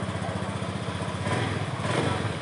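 A 2017 Honda Vision scooter engine starts and settles into a close, loud, rapid putter that swells slightly near the end, with no talk over it.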